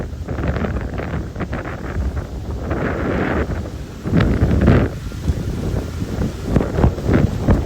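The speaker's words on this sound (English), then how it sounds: "Oh, it's windy." Strong gusty wind roars and buffets the microphone in uneven surges at the Wabash Cannonball Bridge in Illinois, growing louder toward the middle and end.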